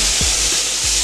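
Steak fries in a pan just after being flipped, giving a loud, close, steady broadband sizzle that fills the brief moment without pause.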